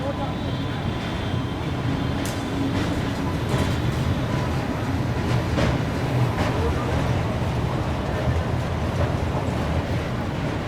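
Ajmer Sealdah Express rolling along in the evening, a steady, loud rumble of wheels and carriages that fills the whole stretch with faint clicks on top, while voices talk over it.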